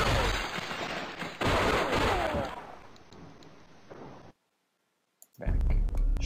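Pistol gunshots in the video game Stick Figure Penalty Chamber 2, a burst of loud crackling shots and echoing impacts, then abrupt silence before another loud blast.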